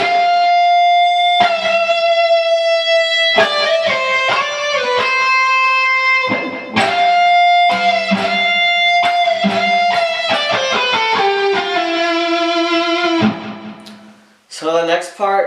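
An electric guitar with distortion and effects plays a fast solo from a metal song, mixing held bent notes with rapid descending scale runs, loud and continuous for most of the passage before a brief pause.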